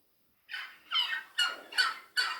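Turkeys gobble in a run of four or five rapid, warbling bursts, fairly close and clear, with no talking.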